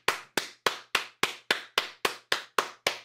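Eleven sharp, evenly spaced hand claps ring out close and loud in a steady rhythm, each with a short reverberant tail, no voices heard.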